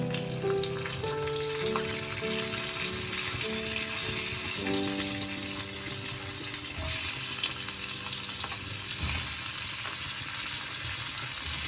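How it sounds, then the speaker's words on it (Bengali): Thinly sliced potatoes and pointed gourd frying in a pan with nigella seeds and green chilli, a steady close sizzle that runs throughout under faint tonal background sounds. "আর যে আলু আর পটলগুলো পাতলা করে কেটে রেখেছি এগুলোর মধ্যে দিয়ে দেবো।"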